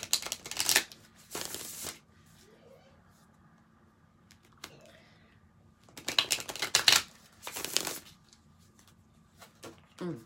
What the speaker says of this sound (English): I'm clearing the cards that I'm shuffling again for you